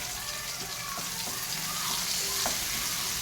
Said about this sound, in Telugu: ఆనియన్ ఫ్రై అవుతున్నప్పుడు ఆయిల్లో కొంచెం అల్లం వెల్లుల్లి పేస్ట్.